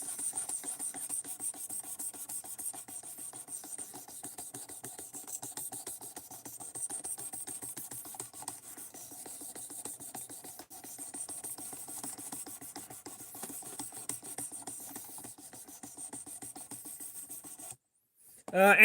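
Knife being sharpened for edge retention testing, a steady rapid raspy scraping of blade on abrasive, faint and close, continuing evenly for many seconds before a brief louder knock at the end.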